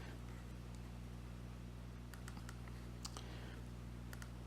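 Keys on a computer keyboard are tapped in short, quiet clusters during software note-taking, faint clicks sitting over a steady low electrical hum.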